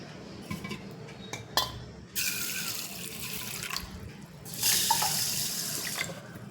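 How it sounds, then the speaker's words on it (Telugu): Rice with fenugreek seeds and sago being washed in a vessel under running tap water, in two loud gushing bursts separated by quieter clinks of utensils and handling, with no talk. "రెండు సార్లు కడిగి మళ్ళీ మంచి నీళ్ళేసి నానపెట్టుకుందాం"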